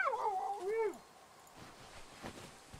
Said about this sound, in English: Why are you making those noises, dog?